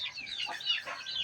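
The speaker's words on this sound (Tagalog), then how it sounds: "Ayan, native na manok." Native chickens clucking softly in a backyard coop, a cluster of short, overlapping calls, fairly close, with no talking.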